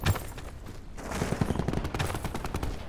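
Rapid automatic fire from the Rampart 17 rifle in Black Ops 4, a dense, continuous stream of close, loud shots over about three seconds with no talking.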